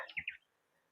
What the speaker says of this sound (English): maybe some finches or fairy wrens